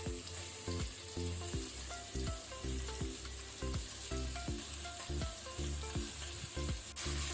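Chopped onion frying in hot oil with cumin seeds and bay leaf for a mutton masala, a steady close sizzle with repeated rhythmic stirring knocks throughout, no voices.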